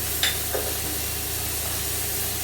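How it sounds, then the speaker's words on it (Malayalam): Turmeric powder roasting in a pan for masala dosa filling gives a steady, even sizzle and hiss, broken once or twice early on by a brief scrape of the stirring spoon. "മഞ്ഞപ്പൊടിയും ചേർത്ത് ഇതിങ്ങനെ ഇളക്കി കൊടുക്കും"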